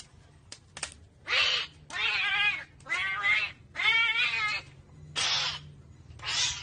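Several stray cats meow in a series of drawn-out, wailing calls, close by, with short pauses between them over a quiet background.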